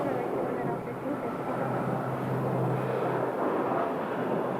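A Pilatus PC-12 turboprop departing Scottsdale, its engine a steady, loud broadband roar that holds evenly throughout without fading.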